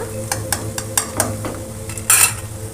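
Egg tomato curry ingredients sizzle in a pan under rhythmic spoon-stirring, with a series of close scraping strokes over steady frying and a louder clattering scrape near the end.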